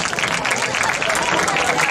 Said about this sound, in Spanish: Un forte aplauso para elas.